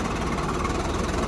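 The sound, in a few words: Swaraj 735 tractor engine running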